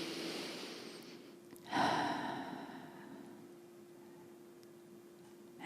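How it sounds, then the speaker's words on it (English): A single deep inhalation during a guided meditation, a soft airy breath in rising out of a quiet room with a faint steady hum. "take another breath in"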